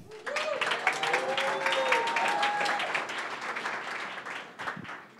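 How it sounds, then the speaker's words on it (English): A tech startup meetup audience at Atlanta Tech Village claps for a sponsor, a full burst of applause that swells, holds and then thins out toward the end. "let's first give a round of applause to Max with Digital Crafts"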